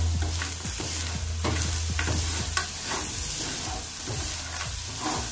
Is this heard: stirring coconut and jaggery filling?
yes